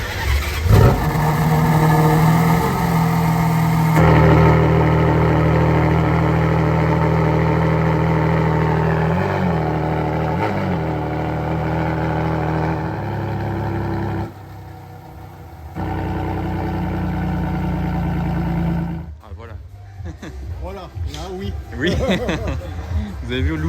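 A BMW M5 Competition starts up and revs near the microphone, giving a deep engine roar and throaty exhaust as the valves open and close. Revs rise and fall several times, a voice talks over part of it, and a sharp blip comes near the end.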